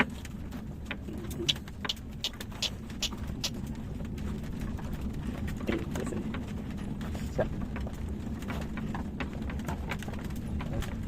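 Irregular cow hoof clip-clops from a cow cart on a hard surface, moderately close, over a low rumbling background with occasional bird coos.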